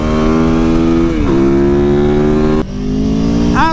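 A single-cylinder motorcycle engine revs loudly up close, holding a steady buzzing pitch that drops and climbs again between throttle blips, with no talking.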